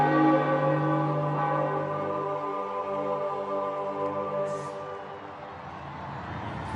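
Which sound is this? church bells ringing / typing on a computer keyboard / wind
church bells ringing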